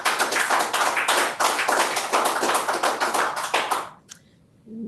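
Clapping from attendees at a Town of Minto council meeting, dense and fairly close for about four seconds, then stopping abruptly and leaving a quiet room.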